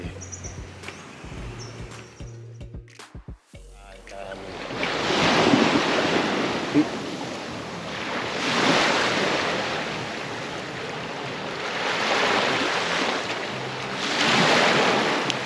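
Sea waves at a Koh Samui beach by a resort, rising and falling in slow surges of broad rushing surf, close and fairly loud, with wind buffeting the microphone after a few brief other noises at the start.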